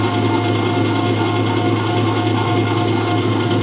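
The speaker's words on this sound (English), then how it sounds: "It's a very quiet mixer." A Zacme 8.4-quart stand mixer runs steadily with its large whisk attachment, giving a constant, even machine drone with no pauses and no voices.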